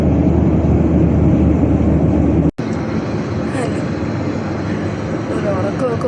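Steady engine drone and air rush inside an airliner cabin during a flight from Cochin to Muscat, a constant loud hum broken only by a brief dropout near the middle, with no voices.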